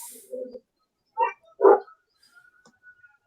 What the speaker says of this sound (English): Oh, get out, nasty water dog.